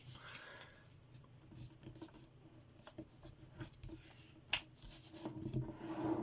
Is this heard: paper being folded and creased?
yes